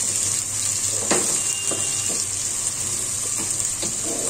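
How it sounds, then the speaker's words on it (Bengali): Chopped onions fry in a pan, filling the scene with a steady, close sizzle broken by occasional soft stirring scrapes, with no talking. "পেঁয়াজটাকে আমি একটু ভালোভাবে ভেজে নেব।"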